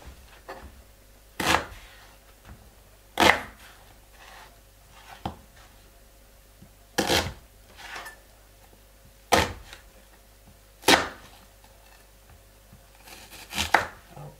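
An onion is chopped with a knife on a board in a home kitchen, giving eight sharp, separate chops spaced a second or two apart, close and fairly loud against a quiet background.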